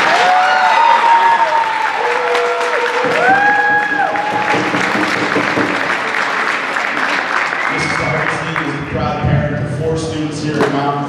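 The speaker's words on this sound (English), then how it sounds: "May I have a round of applause" Loud applause from a crowd at a Coaches vs Cancer basketball game fills the space for a cancer survivor speaker, with whoops, cheers and talking mixed through the sustained clapping.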